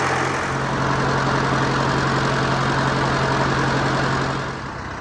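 A 1948 IH Farmall Cub tractor engine runs steadily after a fuel bowl replacement, a close, constant low idle with an even hum that holds throughout and eases slightly at the end.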